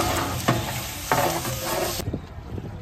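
Food is stirred in a large cooking pot for a Ganesh Chaturthi community meal, with scraping ladle strokes over a sizzling fry, close and fairly loud, softening to quieter clanks near the end.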